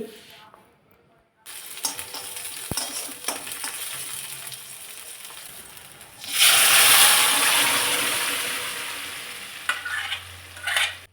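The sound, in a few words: vegetable with coriander being stir-fried in a pan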